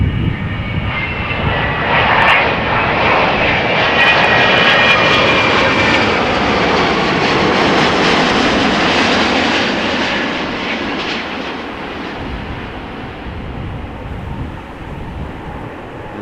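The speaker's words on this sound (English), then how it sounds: "7879 Dreamliner arriving from Tel Aviv" A Boeing 787-9 Dreamliner arriving at Amsterdam Schiphol from Tel Aviv passes with a loud, broad jet roar and a faint high whine, holding steady and then easing off slowly, with no voices.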